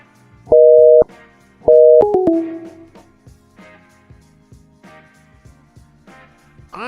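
A telephone signal sounds after a number is dialed repeatedly: two loud steady two-tone beeps, then a falling series of tones, followed by faint clicks and quiet background noise.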